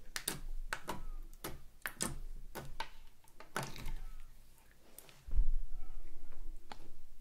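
Soft, sparkly emerald-green slime clicks while handled on a table, giving a string of sharp, close, small pops in an irregular rhythm with quieter squishy handling between them.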